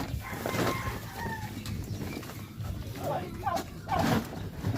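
Chickens clucking and a rooster crowing nearby among kept peafowl and chickens, with a person talking over the birds throughout.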